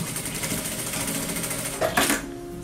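Sewing machine stitching the fabric of a teacher's bag, a quick rattling needle rhythm close by, with a brief louder burst of handling noise near the end.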